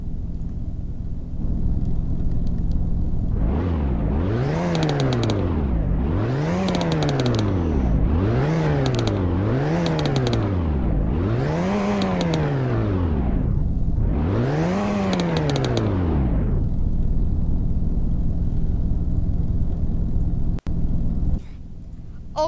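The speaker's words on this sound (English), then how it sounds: "Alright, now time for some revving." A car engine in a Roblox video game revs hard five times in steady succession, each rising to a roaring peak and falling back, loud and close over a low idle.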